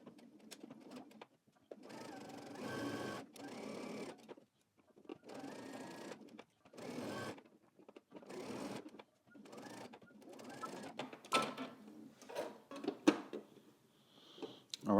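Home sewing machine stitching a seam, running in repeated whirring bursts with brief pauses as the stitch direction reverses for a backstitch, close by with occasional clicks.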